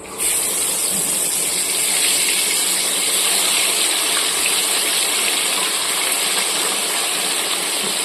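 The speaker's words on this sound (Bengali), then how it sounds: "এবার মাছগুলোকে আমি ভেজে নিচ্ছি" Bhola fish frying in a pan of hot oil gives a loud, continuous, close sizzle that holds steady and dense from start to finish, without any talking.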